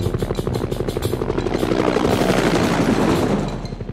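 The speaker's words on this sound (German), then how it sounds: "Schau mal, der Hubschrauber fliegt davon." An animated helicopter's rotor thumps steadily and loudly, then blurs into a broad rushing roar that slowly fades as the craft moves off.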